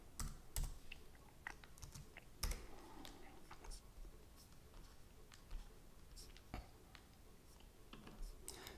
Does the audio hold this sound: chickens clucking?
no